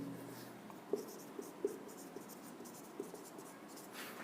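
Chalk or marker writing on a board during a mechanical engineering machine design lecture, quiet scattered taps and short strokes spread across a few seconds, soft and close in an otherwise hushed room.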